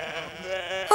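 Sheep bleat out in a field, a short wavering call near the end of a brief moment, fairly close and alone without talk.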